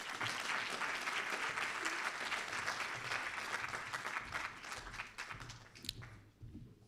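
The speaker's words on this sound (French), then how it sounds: "on peut vous applaudir." Audience applause at a colloquium: dense, steady clapping from a full room that holds for about five seconds, then thins out and fades to near silence.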